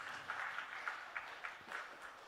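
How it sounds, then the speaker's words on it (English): Faint, distant applause from a medical conference audience, a brief soft patter of clapping with a few louder claps, heard alone. "May I have an applause for Dr."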